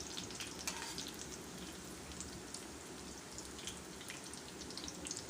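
Chana dal vadas deep-frying over low heat, a steady dense crackle and bubbling of hot oil, close and continuous throughout with no voices.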